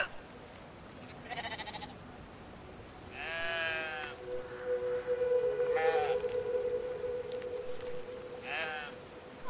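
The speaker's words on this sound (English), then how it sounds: "I'm confused why I took these sheep." Sheep bleat in the video game Brothers: A Tale of Two Sons, with about four separate wavering cries spaced a couple of seconds apart over a faint, steady background tone.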